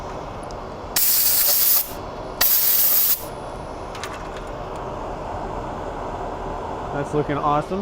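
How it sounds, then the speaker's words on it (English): A dust collector runs through a woodturning shop as a steady hiss, with two loud bursts of spraying air cutting in briefly over it. A voice speaks briefly near the end. "we can turn the dust collector off now"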